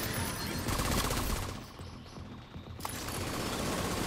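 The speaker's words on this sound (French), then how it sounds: "Tourelle d'assaut ennemi" Enemy assault turret in The Division 2 firing continuously, a dense, loud burst of gunfire with a brief lull in the middle before the shooting resumes.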